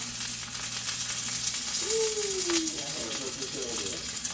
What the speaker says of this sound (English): That's rather sizzly, so that probably means it's ready.